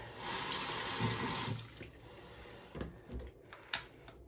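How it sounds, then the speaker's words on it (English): Running tap water pours and splashes into a cordless water flosser's tank for a couple of seconds, then stops, followed by a few light plastic clicks and knocks. "turn on the water and fill it up"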